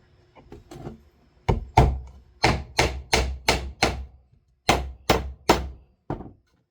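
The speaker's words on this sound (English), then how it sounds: "Time to get nailing." Hammer blows driving nails into a scrap-wood bird feeder, a dozen sharp close whacks landing in quick bursts of two to four strikes with short pauses between, no voices.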